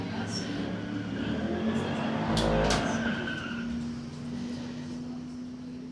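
A Corvette races down its drag strip lane at a street-legal event, a broad rushing engine roar swelling to a peak midway and then easing, heard beneath an announcer's talk.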